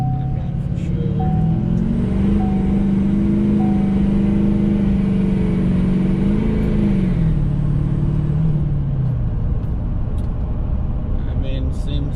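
A car fitted with a DSP5 switch pulls away from a standstill on wet tires, its engine droning loud and close as the pitch climbs steadily through the revs, then eases off and falls away toward the end.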